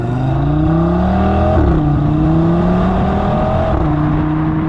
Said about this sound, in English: the sound you get is so wonderful from the 5-cylinder